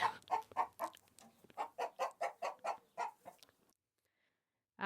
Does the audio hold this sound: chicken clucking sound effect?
yes